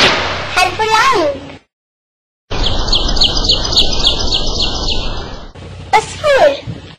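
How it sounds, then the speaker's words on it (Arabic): A sparrow chirps in a quick, bright series of repeated tweets, loud and close, heard on its own between stretches of speech. "عصفور"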